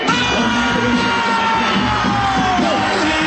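A large festival crowd at WOMAD 2015 yells and screams together, loud and sustained, a dense wall of voices with whoops rising above it.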